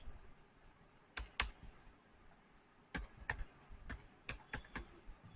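Typing on a computer keyboard during SQL injection work: scattered quiet clusters of key clicks with gaps, fairly close and faint, with no talk.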